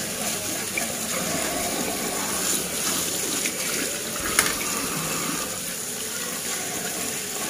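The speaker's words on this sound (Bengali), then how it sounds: "একটু সর্ষেটা ধুই। সাদা সর্ষে আর কালো সর্ষে মিশিয়ে নিয়েছি।" White and black mustard seeds are rinsed in water in a home kitchen, giving a steady close sloshing and gushing with one brief clink.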